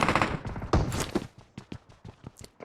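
Rapid gunfire from a PUBG match in Pochinki, a dense burst of sharp overlapping shots, loud and close at first, then thinning into scattered quicker cracks and thuds.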